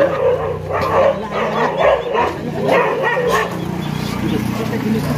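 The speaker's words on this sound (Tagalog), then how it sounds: "Mahabol yan, mga aso na yan." Dogs bark repeatedly in short yapping bursts with some whimpering, close by, mixed with people talking in the background.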